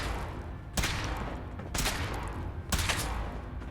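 Three loud weapon shots from Fallout 4 fire at roughly one-second intervals, each a sharp broadband crack with a short decay over a steady background hum.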